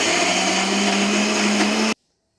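A mixer grinder runs loud and steady, coarsely grinding soaked chana dal for banana-flower vadai, a constant high whirring drone that cuts off abruptly after about two seconds.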